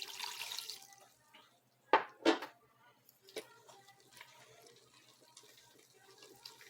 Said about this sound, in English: Still looks small, so I'll be adding another cup of water.